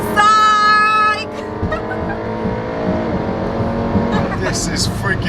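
A modified Audi RS7 running on E85 races on the street against other cars, loud engine roar with rising, whining revs and tire squeal, a passing car sweeping by, as people talk excitedly over it.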